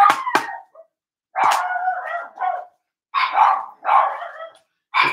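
Several dogs barking indoors in sharp, close bursts, a few rapid barks followed by longer yipping, howl-like runs separated by short silences.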